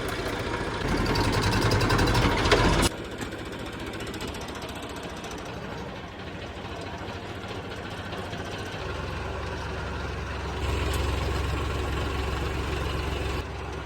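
A tractor engine chugs steadily with a rattling, mechanical idle, louder at the start and briefly surging again near the end.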